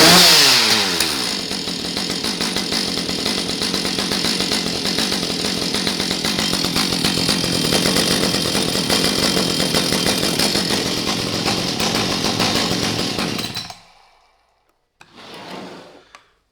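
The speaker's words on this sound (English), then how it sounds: "Right, that's how we start a chainsaw." A chainsaw catches after a few rapid starter-cord pulls and then runs loud and steady at close range for about thirteen seconds. It cuts out abruptly, followed by a short quieter burst of engine noise.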